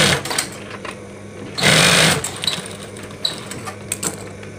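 A sewing machine stitches a narrow tie strap for a mukena prayer garment. The close mechanical whir of stitching is steady, with a sharp, louder burst midway and small clicks throughout.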